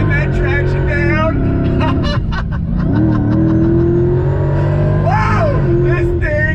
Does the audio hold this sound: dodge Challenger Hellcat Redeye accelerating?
yes